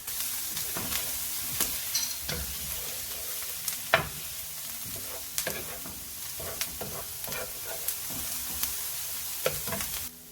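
Spinach pie filling with olive oil is stirred in a pan, giving soft scraping strokes at an irregular pace over a continuous light sizzle, close and fairly quiet, with no voices.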